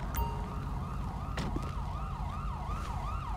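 An ambulance siren in GTA 5 LSPDFR wails in a steady repeating yelp cycle over a continuous low vehicle and engine rumble, loud and close throughout.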